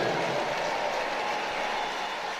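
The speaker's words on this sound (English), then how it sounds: "those kids being rapturously applauded" At a rugby ground on a cool autumn afternoon, a crowd's broad, steady applause hangs in the air for kids, an even wash of clapping heard from some distance with no clear voices.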